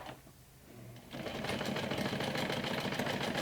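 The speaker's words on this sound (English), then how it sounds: "now I'm going to stitch around with a 1/4 inch seam allowance" A sewing machine stitches a mini backpack seam at a quarter-inch allowance, starting after a quiet second and then running steadily and close up with a fast, even mechanical whir.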